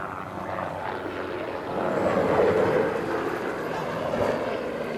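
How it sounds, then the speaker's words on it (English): Helicopters giving rides fly overhead at an outdoor event, a steady rotor and engine drone that swells louder near the middle and then eases, with faint voices in the background. "What's with the helicopters?"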